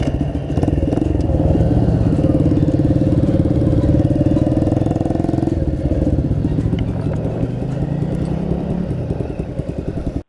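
A custom Cub motorcycle engine runs loud and close for about ten seconds, a steady rhythmic putter with mechanical clatter that eases slightly toward the end, heard alone without talk.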